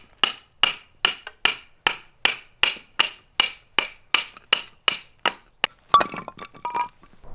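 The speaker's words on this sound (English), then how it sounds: "This is me using the SE Laser Strike for the first time" SE Laser Strike fire starter struck over and over, a quick regular run of sharp scraping clicks, followed by a crackling, clinking flurry near the end.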